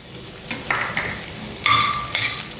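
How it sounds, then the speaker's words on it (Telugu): Edible gum (gond) fries and puffs in hot ghee, a bright crackling sizzle that swells louder partway through, with light stirring taps and no talk. "చూసారా నేతిలో వేయగానే పేలాల్లాగా ఎట్లా పొంగిందో"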